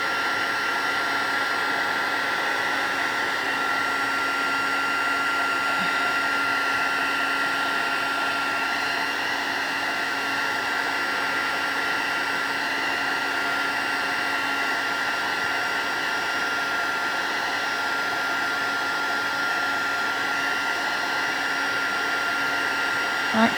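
A hair dryer blows over watercoloured card stock, a steady, loud whooshing hum that runs unbroken and close for the whole stretch.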